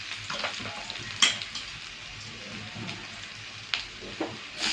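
Garlic, ginger and capsicum fry in a pan with a continuous crackling sizzle, punctuated by a few sharp clinks and stirring taps.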